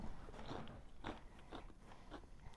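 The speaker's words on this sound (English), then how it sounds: "If you have chips or even crackers with it, the bacon does add a little bit more crunch and texture to it." Crunchy bites of bacon cheese dip scooped on a chip, heard as a few quiet, close crunches and chewing clicks spaced irregularly across a couple of seconds, with no talking.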